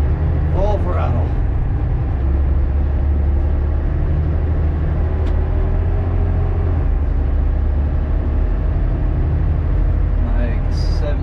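A 105,000 lb haul truck engine roars at full throttle, a loud, steady, close drone with a deep low rumble that holds unbroken throughout, with a brief voice near the start.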